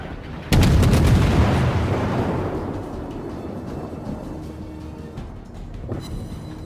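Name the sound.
destroyer Akatsuki firing small-caliber HE shells, video game World of Warships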